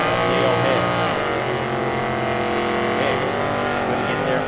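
Drag racing at Firebird Motorsports Park with a Dodge Aspen and a 1968 Camaro, both with vinyl roofs, heard as a loud, continuous engine roar with shifting pitch sweeps, close by and sustained throughout.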